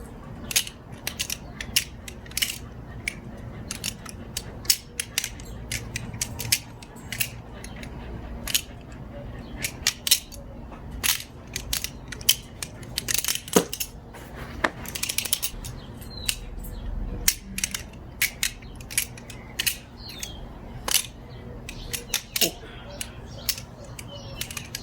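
A Svix Co Zephyr balisong butterfly knife trainer being flipped, giving a steady stream of fast metallic clicks, rattles and latch snaps at close range over faint background hum.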